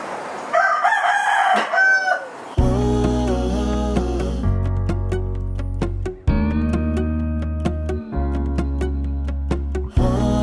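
Several roosters crow in overlapping, loud calls very early in the morning in the rural Philippines, one after another with brief gaps, close by and strongly harmonic.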